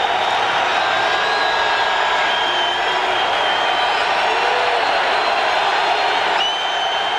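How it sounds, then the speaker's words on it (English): A football stadium crowd at a Raiders versus Chiefs game roars steadily and loudly for the whole stretch, a dense, sustained wall of cheering with scattered whoops, easing only slightly near the end. "Crowd on its feet again."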